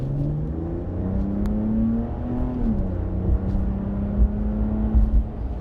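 A 2025 pickup truck, either a Ram 1500 RHO or a Ford F-150 Raptor, accelerates as heard from inside the cabin: a steady engine drone rising in pitch through a gear change, loud and continuous with no talking.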